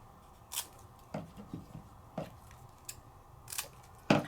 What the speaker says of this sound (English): Take another little piece of my foam. Cut to the size you need